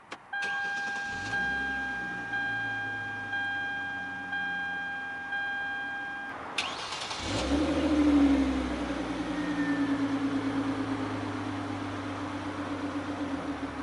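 A 2016 Hyundai Genesis Coupe 3.8 engine cranks and catches, then settles into a steady idle hum, preceded by a repeating electronic chime and ticking.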